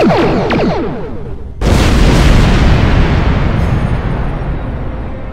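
Torpedoes blast through an asteroid in Star Trek Online: a few quick sci-fi weapon chirps, then a sudden loud, sustained roaring explosion rumble that slowly fades.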